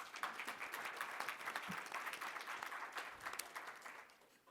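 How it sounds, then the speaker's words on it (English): Applause for a speaker at an LGBTQ leadership event, a fairly quiet but sustained round of clapping with distinct individual claps, fading slightly toward the end. "Big round of applause for Birgitta"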